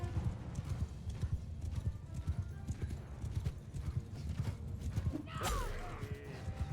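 Hooves of horses galloping in a Mount and Blade II: Bannerlord battle, a rapid dense clatter of many hoofbeats, with a horse whinnying briefly near the end over the din of the fight.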